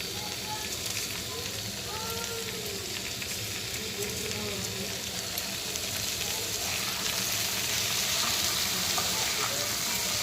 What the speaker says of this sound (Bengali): পেঁয়াজ আর মাশরুমটাকে একটু ভেজে নেবো